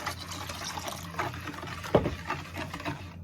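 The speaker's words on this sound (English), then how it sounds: "Now in goes my milk." Milk pours into muffin batter in a bowl for mini cinnamon muffins, making a soft, close liquid trickle and splash that runs steadily, with one brief louder plop partway through.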